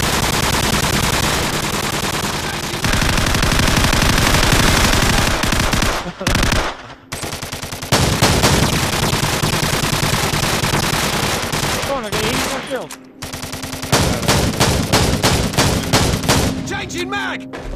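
Rapid bursts of automatic gunfire from firearms at an outdoor shooting session, loud and close, firing in long sustained strings with brief pauses around a magazine change; voices are faintly present between bursts.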